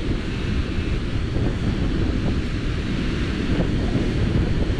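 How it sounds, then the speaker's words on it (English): Strong wind at Hermosa Beach, California buffets the microphone in a loud, continuous roar with rushing low rumble and faint surf underneath, steady throughout with no talking. "it's very windy right now"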